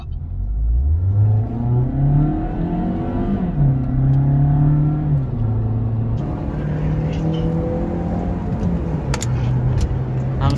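Drag race between a Honda Brio with a manual l12b engine, a Mazda 2 Skyactiv and a Suzuki Ertiga k15b: loud, close engines rev up hard from the start and climb through several gear changes, holding a steady roar.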